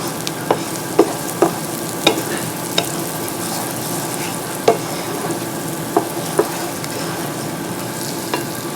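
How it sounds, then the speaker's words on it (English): Allspice stirred in a hot pan makes a soft, continuous hiss, punctuated by sparse sharp clicks and scrapes from the spoon against the pan, heard up close with no voices. "you're going to stir until it starts to give off a little bit of fragrance"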